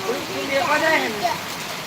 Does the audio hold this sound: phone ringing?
no